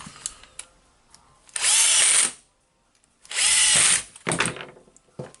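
A Makita HR2811FT rotary hammer drill whirs in two loud bursts of about a second each, close by, with clicks and handling noises between them.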